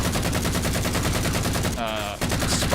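Spartan standard issue pistol fired rapidly in Halo 4, a fast, even burst of loud close shots, with a brief metallic break near the end before the firing resumes.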